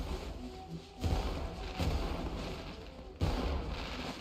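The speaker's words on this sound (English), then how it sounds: "How do I keep missing the fireworks every time?" Fireworks bursting in Genshin Impact, heard as a few muffled booming thumps spaced across the moment, the strongest landing near the start and end, over a steady game background.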